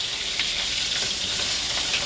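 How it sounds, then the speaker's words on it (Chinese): Seasonal ribbonfish pan-fries at a late-night roadside seafood stall, giving a close, continuous sizzling hiss with small crackles and no speech. "当季的白带鱼正在锅里煎得焦香"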